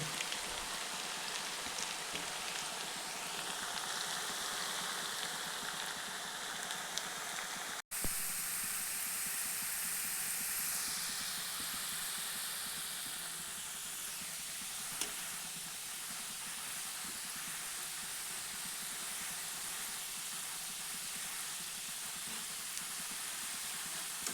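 A steady, dense sizzle of potatoes frying in hot oil, continuous and even throughout with no talking.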